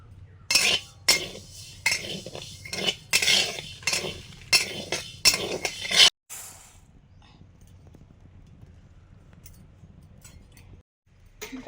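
Dal being dry-roasted in a pan for khichuri, with a spatula clinking and scraping in quick rhythmic strokes for several seconds, then fading to a quiet low hum.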